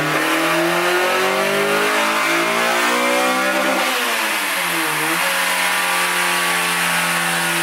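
A car engine screams through a dyno pull on an import-bodied car fitted with big injectors and running rich, loud and close, its pitch climbing steadily before dipping briefly and rising again through the run.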